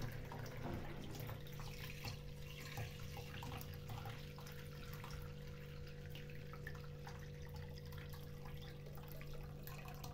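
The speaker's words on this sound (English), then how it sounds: "I'm going to sieve it to remove the cream that has formed." Cooled milk is poured through a sieve to strain off cream while making homemade yoghurt, a faint steady liquid trickle over low background hum with no voices.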